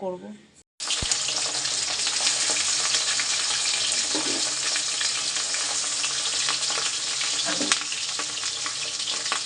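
Fish frying in a pan on a home kitchen stove, a steady loud sizzle that starts abruptly after a brief gap and runs without a break, with faint clinks of stirring.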